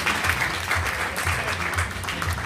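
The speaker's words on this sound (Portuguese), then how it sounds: "Palmas, por favor, palmas." Audience applause at a stand-up comedy show, steady dense clapping from a crowd throughout, fairly loud and continuous with no voices over it.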